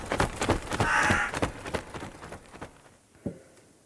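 During a spoken poem performance, a voice imitates a raven's cawing with a rapid series of harsh, close caws that taper off, ending with one sharp final call.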